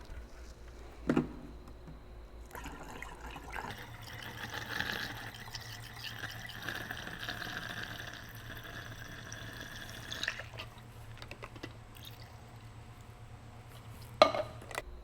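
Water pours through a funnel into a plastic jerry can in a continuous, fairly quiet trickling stream lasting several seconds, framed by a couple of soft knocks from handling the container.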